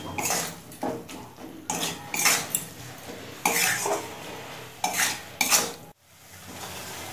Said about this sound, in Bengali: এবার খুব ভালো করে মাঝারি আঁচে মশলাটা কষিয়ে নেব।